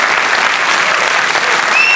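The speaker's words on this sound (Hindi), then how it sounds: "उस पीढ़ी के लोग अपने लिए ताली बजा रहे हैं" Audience applause at a Hindi poetry recital (kavi sammelan) at IET Lucknow: a loud, dense wash of many hands clapping steadily throughout, with no speaking over it.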